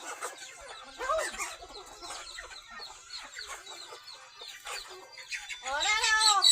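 Chickens and chicks on a rural farm, clucking and high peeping calls close by, with a louder burst of squawking near the end and faint talk in the background.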